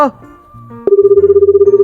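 A telephone rings with a loud, close electronic tone that warbles in rapid, even pulses. It starts suddenly after a moment of quieter background and keeps going steadily.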